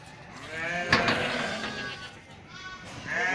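Goats bleat nearby in a couple of wavering, nasal cries, one after another with a brief pause between them.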